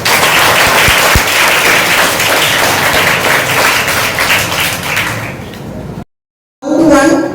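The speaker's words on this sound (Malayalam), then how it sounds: "നിങ്ങൾക്ക് എല്ലാവർക്കും ഒന്നും കൂടി ഒരു നിറഞ്ഞ കയ്യടി" An audience at a Kathakali quiz competition gives a full, dense round of clapping that holds steady for about six seconds, then cuts off abruptly.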